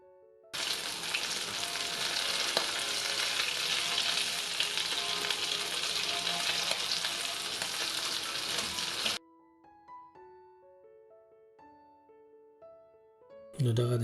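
Chicken shami kababs, pre-cooked in a pressure cooker, fry in hot oil in a pan with a loud, steady sizzle for several seconds before it cuts out, followed by quiet kitchen clinks and a final burst of sizzling.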